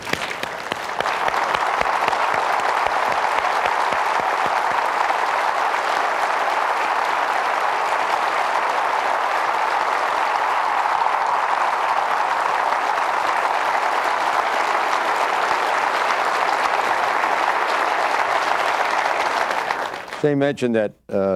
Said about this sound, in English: One more round of applause for this great team.